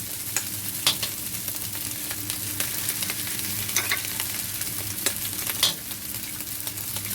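Eggs for fried rice sizzle in a hot pan while a utensil stirs and scrapes them, with a steady frying hiss and scattered sharp clicks of the stirring.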